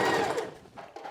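Sewing machine back stitching along a t-shirt neckband, a dense whirring run that is loudest at the start, then eases and stutters through a few short bursts, close by.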